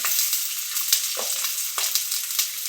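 Onions frying in oil in a pan for a country-style chicken gravy, a steady bright crackling sizzle with occasional spatula scrapes, close and even, no voices.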